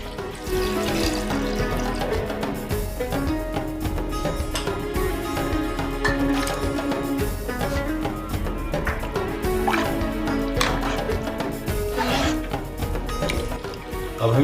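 Water, 1.5 litres of it, pours into an Afghani pulao pot holding whole spices, chili powder and ginger-garlic paste, making a steady, continuous splashing rush that runs throughout at a moderate level.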